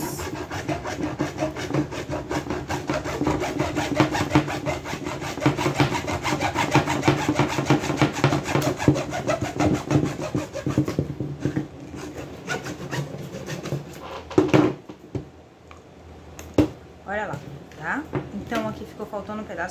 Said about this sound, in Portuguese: Então, eu vou serrar agora.